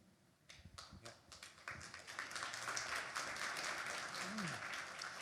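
A seated audience at an orientation gathering breaks into applause, scattered claps at first that swell into steady, full clapping throughout, with some murmuring voices beneath.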